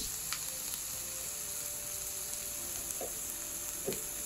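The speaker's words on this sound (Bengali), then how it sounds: "মাংসটাকে ভেজে নিতে হবে" Meat for a homemade pizza topping sizzles and fries in a pan, a steady, fairly quiet crackle with a few brief louder spits, and no talking.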